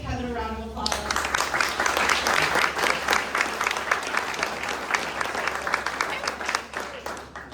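An audience at a community meeting on hurricane homeowner resources gives a round of applause: a brief voice first, then a full, steady burst of many hands clapping that holds evenly for several seconds.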